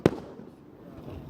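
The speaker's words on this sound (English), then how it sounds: "Why are they called fireworks? Because they go off in the air and they work." A single firework bursts with a sharp, loud bang followed by a fading crackle and rumble, heard alone outdoors at a holiday fireworks display.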